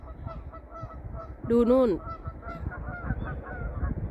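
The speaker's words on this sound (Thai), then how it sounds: "สนามหญ้ามีแต่เป็ดด้วยห่านเต็มเลยจ้าพี่น้องจ้าห่านเต็มไปเบิดเลย" Geese on a lawn in Sweden give a single loud close honk amid quieter background murmur and outdoor noise, while a person speaks briefly.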